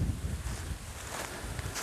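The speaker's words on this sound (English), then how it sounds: "I hope the wind is not too bad and that you could hear me." Wind buffets a microphone outdoors on a property beside a fence and vegetable garden, producing a constant loud, low rumbling roar with gusty swells, with no talking.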